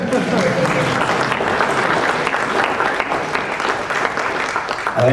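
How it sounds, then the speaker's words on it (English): An evening cyber-security event audience applauds its panel, sustained crowd clapping throughout, even and continuous with faint murmur beneath and a voice starting at the very end. "I'd like you to join me in thanking our panel this evening, by way of applause"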